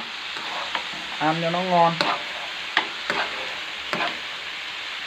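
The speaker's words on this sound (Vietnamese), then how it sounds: "trộn đều với cái phần thịt này cho nó thấm" Papaya and pork stir-fried in a pan sizzle softly while a utensil scrapes and taps through the mix in repeated strokes, and someone speaks briefly over the cooking.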